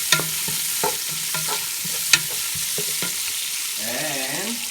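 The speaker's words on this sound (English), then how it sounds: "Then you stir this up." Black and red pepper are stirred into adobo in a hot pan, with a steady sizzle under repeated spoon taps and scrapes, and a brief wavering tone near the end.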